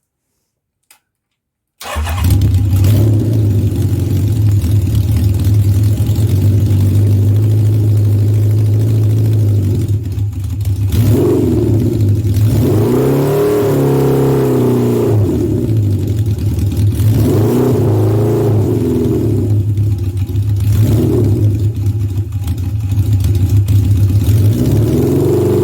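A Honda CB750 SOHC motorcycle engine starts after a brief silence, then idles loud and close with a steady mechanical drone, rising into several revs before settling back.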